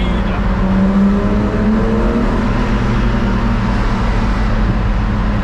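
A BMW M1 engine roars loudly and steadily from inside the moving car, a dense, continuous drone with harmonic bands shifting as revs change, no talk over it.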